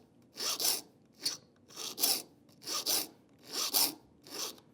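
A file sharpens the teeth of a fine 19-teeth-per-inch hand saw in about seven short, rasping strokes, each a gritty burst with brief pauses between, close and clear with no talking.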